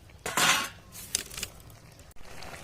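A metal lid is set onto a pot of cooking goat meat: one loud close clank, then a few lighter clinks and small rattles as it settles, with quiet kitchen background.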